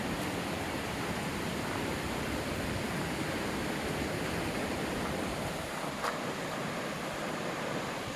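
Steady broadband rush of Enloe Creek flowing beneath a trestle bridge in a gorge in the Great Smoky Mountains fills the whole clip, a constant wash with no voices and no breaks.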